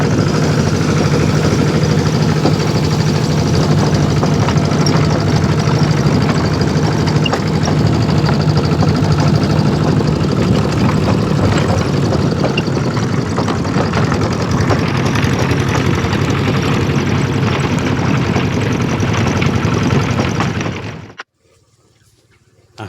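A farm tractor engine running steadily at a loud, close idle with a deep low rumble and constant throb for about twenty seconds, then cutting off abruptly near the end.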